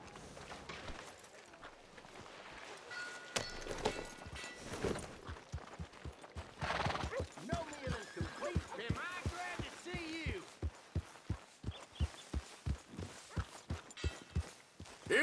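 Horse hooves clip-clop in a steady, regular rhythm in Red Dead Redemption 2, beginning partway through after a stretch of muffled background sound and brief voices.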